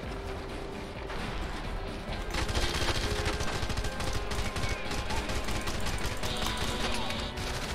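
Dense, continuous gunfire from the video game Red Faction Guerrilla: rapid overlapping shots and bursts roar steadily for several seconds with crashes mixed in, loud and close throughout.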